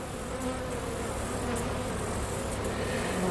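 Honey bees buzzing in a steady, dense drone during a November hive inspection in Saskatchewan, with varroa mite treatment under way; a close, continuous hum fills the whole stretch with no talk.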